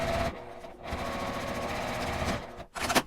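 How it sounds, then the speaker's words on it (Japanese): A sewing machine stitches the corner of a nylon box pouch about 1 cm from the edge, a close, steady buzzing run with a brief dip, then a stop near the end before a short burst restarts. "まちのところをきれいに出して端から1センチのところを縫います"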